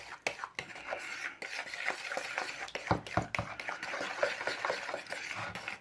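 ResinCrete being stirred and mixed in a container, a steady close scraping and rubbing with irregular knocks against the sides, continuing without speech.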